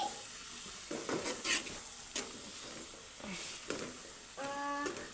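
Green chillies, coriander and onions frying in oil in a pan for egg curry, a soft, continuous sizzle broken by several spoon-stirring scrapes and a light metallic clink near the end.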